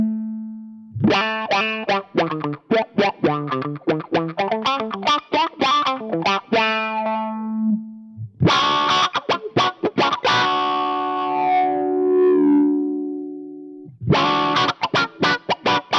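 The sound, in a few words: guitar through Quad Cortex envelope filter effect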